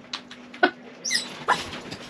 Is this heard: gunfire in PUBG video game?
no